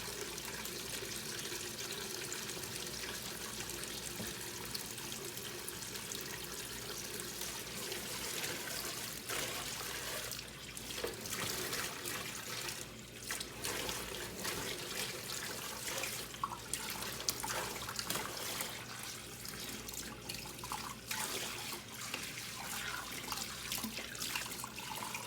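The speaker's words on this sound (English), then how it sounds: "I'm going to rinse all of it off before I" Running water rinses black aquarium sand in a container, a steady broadband trickling and pouring with occasional sloshing surges as the sand is stirred, close and continuous with no talk.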